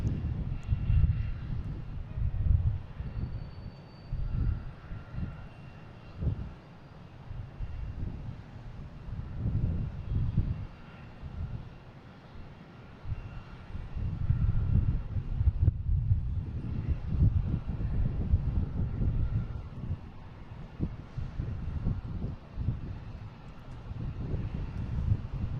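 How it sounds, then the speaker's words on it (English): Porter Airlines Dash 8 turboprop at Boston Logan, a steady low rumbling engine drone with gusts of wind on the microphone, holding at moderate loudness throughout. "got Porter heading to Toronto on a Dash 8, flight 9242"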